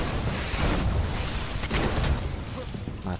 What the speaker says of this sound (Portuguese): Toma, tiro de bazuca.